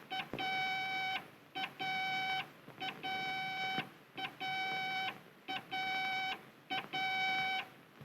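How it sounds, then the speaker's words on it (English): Radio range beacon tone sounds in a pilot's earphone as a repeating dot-dash pattern, a short beep followed by a longer one in steady cycles, clear over a faint hiss. "If I go to the left of my course, I hear a series of dot dashes"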